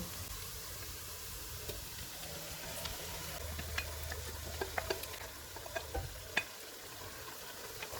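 Marinated beef and onion frying in a pot for Beef Malai Handi, a steady low sizzle with scattered clicks and scrapes of stirring, fairly faint and without speech.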